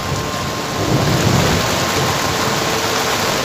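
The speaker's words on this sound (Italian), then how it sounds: "Piove!" Steady, loud rain pours down, a dense hiss with a low rumble swelling briefly underneath, no voices.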